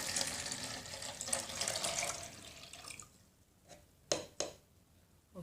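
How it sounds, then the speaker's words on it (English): Tap water poured from a glass into a homemade water heater, a steady splashing pour for about three seconds that stops, followed by a few short, sharp drips and clinks near the mic. "Take a glass and fill this glass with tap water, and now start to fill this thing."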